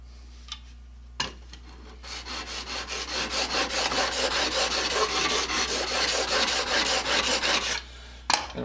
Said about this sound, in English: I'm going to flip my sandpaper around so I get to wear out the other end a little bit.